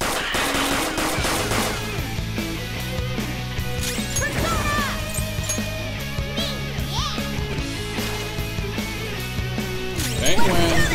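Bursts of gunfire from guns in the Persona 5 video game, rapid shots layered over busy game music and battle effects, steady and fairly loud throughout.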